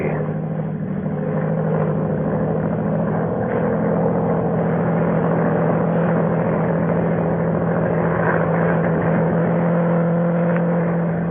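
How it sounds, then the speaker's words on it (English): A monoplane propeller aircraft drones steadily as a radio-drama sound effect, a continuous loud engine hum with a fixed tone and slight waver, heard alone on a narrow, old-time broadcast recording. "Low down in the south, a monoplane was climbing into the heavens."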